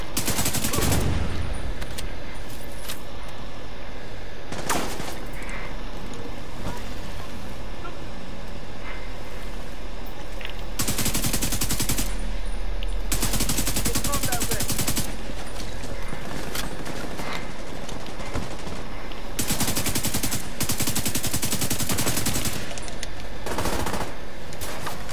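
Sustained machine gun fire rattles in The Division 2 during a fight at a hotel infirmary control point, long loud bursts repeating over a constant background of combat noise.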